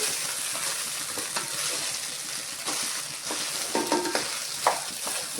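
Fried rice being stirred in a home kitchen pan, a steady sizzle with scraping and clinking of the spatula in irregular strokes, close and moderately loud.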